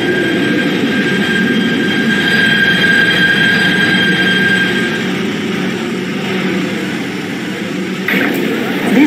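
A steady rumbling video-game train ride on a Kawasaki PA-5 PATH train bound for 33rd Street, with a constant hum and faint high tones, a brief clatter near the end.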